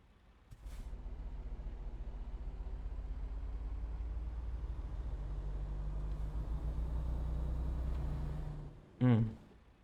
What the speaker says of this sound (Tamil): வண்டியை ஸ்டார்ட் பண்ணலாம்.